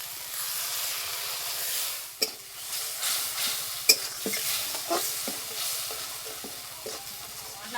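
Spice paste sizzling and frying in hot oil in a pan for a village-style snakehead fish curry, a steady close hiss broken by sharp scraping and stirring knocks, with no talking.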